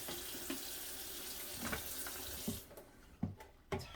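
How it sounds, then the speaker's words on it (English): Water runs steadily from a two-handle kitchen sink tap during dishwashing. It gives a continuous rushing splash with small clinks and knocks, then drops in level near the end as the flow is adjusted. "It's hard to get the water adjusted with the two handles."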